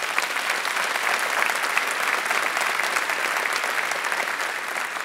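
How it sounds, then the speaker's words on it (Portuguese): A large audience at a church family congress claps loudly and steadily, with dense applause sustained throughout at an even level. "Você pode aplaudir bem forte o Senhor."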